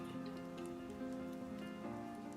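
Steady rain sounds laid over classical music, a soft continuous patter of drops blending with sustained orchestral tones throughout, no voices.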